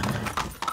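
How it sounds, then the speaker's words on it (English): In the video game Far Cry 6, a horse painted like a zebra clip-clops with a quick run of close, moderately loud hoof beats, with no talking over it. "That's a horse and some paint."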